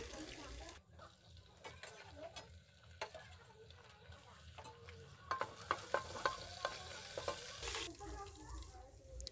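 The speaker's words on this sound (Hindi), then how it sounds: "खड़े मसालों को पकने के बाद में अब हमने डाल दिया है कुटी हुई लहसुन अदरक" Crushed garlic and ginger frying with whole spices in oil for a chapan tinda curry, a soft sizzle broken by scattered spoon taps and stirring scrapes, fairly quiet with a low hum underneath.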